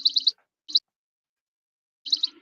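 A cartoon space duck gives short, bright chirps: a quick triple burst, a single chirp, then another rapid cluster, clear and close against silence.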